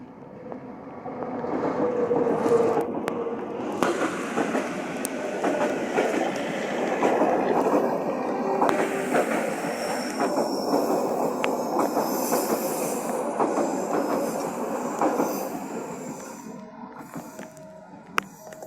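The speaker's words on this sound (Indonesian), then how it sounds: "tonton dulu ini ada kereta lewat" A train rumbles past, rising and then holding a loud clatter of wheels on rails with occasional squeals before fading away.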